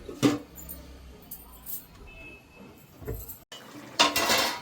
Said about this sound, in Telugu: మూత పెట్టుకొని ఉడకనిద్దాం.